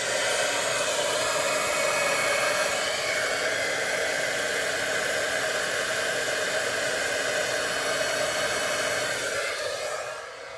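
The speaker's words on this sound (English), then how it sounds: "I'm going to come back in here with my heat tool and emboss" Heat embossing tool blows hot air over a card, a steady close whooshing hiss running continuously before cutting off at the end.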